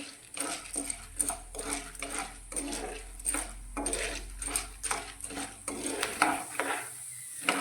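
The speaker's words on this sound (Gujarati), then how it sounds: "તો બે મિનિટ આપણે આ રીતે તેલની અંદર દાણાને સાતળવાના છે" Corn kernels sauté in oil in a pan for homemade popcorn, with rhythmic spoon scrapes and metallic clinks as they are stirred over a light sizzle.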